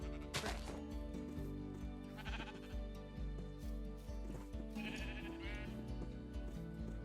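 Minecraft 1.21 black and white sheep bleating several times on a sheep shearing farm, short nasal calls scattered over a steady tonal background with occasional soft thuds.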